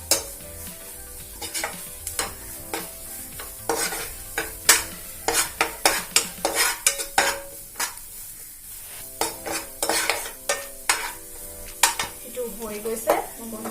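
Vegetables stir-fried briefly in a pan, with repeated sharp scrapes and clacks of a spatula against the pan in an irregular rhythm over a soft background sizzle, close and fairly loud.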